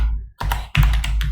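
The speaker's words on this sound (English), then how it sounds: "So let's just type in distance" A few quick clicking keystrokes on a computer keyboard as numbers are typed in, close and distinct, with short pauses between taps and no voice.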